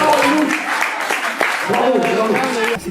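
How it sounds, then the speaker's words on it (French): Applause from school students at a middle-school literary improvisation match, a short burst of clapping up close with a voice talking over it. "on peut s'applaudir"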